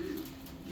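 A pigeon at a pigeon farm gives a low, soft, continuous coo, faint and brief.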